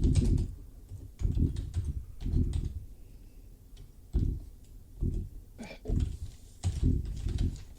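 Keys clack on a Corona typewriter in irregular bursts of sharp, close strikes with short pauses between clusters, moderately loud and without talk.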